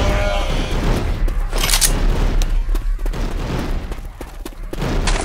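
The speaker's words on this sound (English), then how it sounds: "God damn it, stop this shooting!" Rapid gunfire and booming blasts from a Left 4 Dead 2 zombie shooter game rattle on continuously and loudly, dense and chaotic, with voices mixed in.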